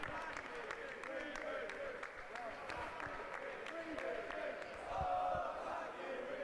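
Crowd noise at a festival darts match, a steady murmur of cheering voices with scattered claps and a brief louder swell near the end, fairly distant and continuous.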